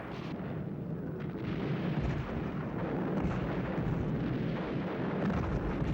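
Artillery barrage pounding a German defensive perimeter during the Battle of Berlin: a continuous, dense rumble of overlapping distant explosions with heavy low booms rolling without pause and no voices.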